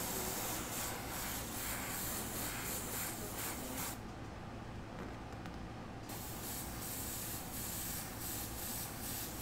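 Spray paint hisses onto Air Force 1 sneakers in a steady, close, continuous stream, laid down in light layers with a brief softer dip partway through.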